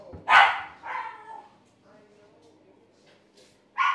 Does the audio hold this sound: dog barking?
yes